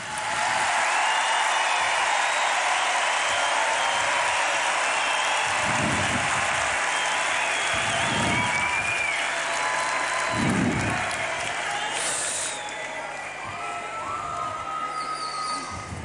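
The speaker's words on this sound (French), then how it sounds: "Ah, vous pouvez les applaudir." An audience claps steadily and loudly for about sixteen seconds at a church youth gathering, a dense wash of applause that fades slightly near the end.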